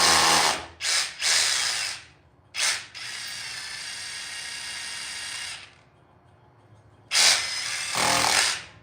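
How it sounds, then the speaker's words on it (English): A power drill drills into brick, whining loudly in several bursts, short stop-start pulls followed by a long sustained run, then two more loud bursts. "Push it till the drill gets all the way in."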